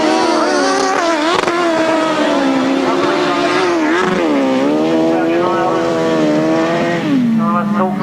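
1000cc grasstrack sidecar racing outfits roar down the back straight, engines loud and close with rising and falling revs, under a commentator's voice.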